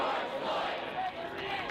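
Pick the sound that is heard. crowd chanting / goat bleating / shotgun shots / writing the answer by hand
crowd chanting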